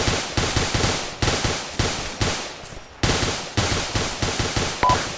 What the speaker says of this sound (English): Charlie, heavy suppressor fire front